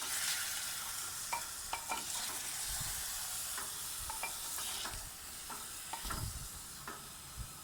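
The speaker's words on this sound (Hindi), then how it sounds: "अब मैं इसकी 5 से 10 मिनट तक बहुत ही अच्छे तरीके से भुनाई करूंगी।" Mutton chunks fry in garlic, ginger and cumin paste, a steady close sizzle broken by scraping stirs and occasional clinks as the meat is turned, with no voices.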